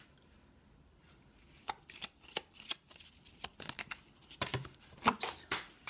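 A deck of tarot cards is shuffled close up, with sparse flicks at first that build into quick bursts of crisp riffling and slapping.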